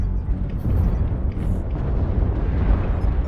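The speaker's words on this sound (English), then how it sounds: "Artillery strike activated." An artillery strike in MechWarrior Online, a loud, continuous rumbling roar of overlapping deep explosions and booms that stays heavy throughout, with no distinct gaps between blasts.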